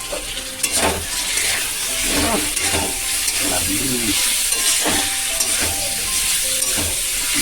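Food being stirred as it fries in a pan in a home kitchen, with steady sizzling and crackling broken up by repeated scraping strokes of the spoon, close and fairly loud.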